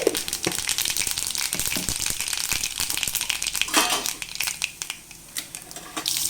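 Mustard seeds and dried red chillies frying in hot oil, crackling and popping irregularly in a busy, close-up sizzle for a kovakka thoran.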